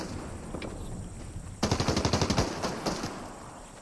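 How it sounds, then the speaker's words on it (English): A rapid burst of automatic gunfire in Fortnite, about a dozen sharp, evenly spaced shots fired at the player, loud and close, followed by a couple of stray single shots. "There's somebody shooting at me."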